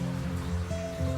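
Rainwater running along the side of a wall beside a playground in Mumbai after a heavy downpour: a steady, continuous rushing wash with a faint background hum.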